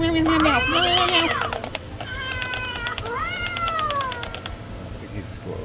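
Animatronic Halloween cat in a store display letting out a string of warbling, electronic meows, several repeated calls close by, with people talking over it.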